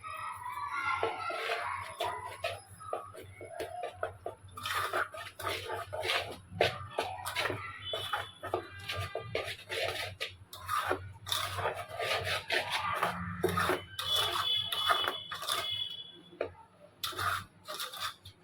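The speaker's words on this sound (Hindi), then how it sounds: "तो चलिए इसको अच्छी तरह से मिला देते हैं।" Sugar is worked by hand into poda pitha batter, giving quiet, irregular rubbing and scraping strokes with soft slaps and shuffles that continue throughout, close by.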